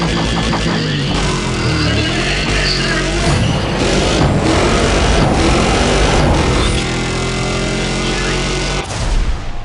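A loud, chaotic mix of roaring race engines revving hard amid dense noise in the video game Need for Speed: ProStreet, Tokyo Dockyards, steady throughout with a brief dip near the end.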